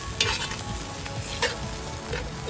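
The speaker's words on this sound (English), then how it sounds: "Give it a friendly bush tap. Give that a stir." Food stirred in a pan over a campfire during bush cooking, with seeds, salt and crushed clove added: steady close sizzling and frying with soft scraping strokes of the stir throughout.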